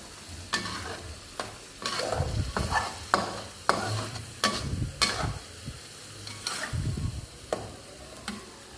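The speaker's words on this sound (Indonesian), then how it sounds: "Kita masak lagi, kita tumis-tumis lagi sampai harum" Bruised lemongrass, torn lime leaves and bay leaves are stir-fried in a pan: a soft sizzle under a regular series of sharp spatula clacks and scrapes, close and fairly quiet, with no voices.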